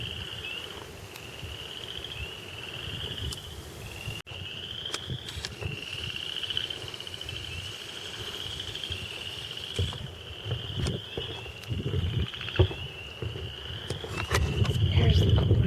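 Chorus frogs calling from reeds along a woodland creek, a continuous trilling chorus at moderate distance with repeated rising pulses, over low outdoor rumble and scattered clicks.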